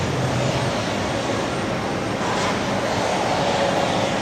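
Steady engine rumble and whine from an airliner on the LA flight at JFK Airport, continuous and fairly loud, with no voices over it.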